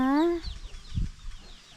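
A chicken in a rural village in northern Shan State gives a single short, nasal call at the start, followed by faint, muffled low sounds in the quiet outdoor background.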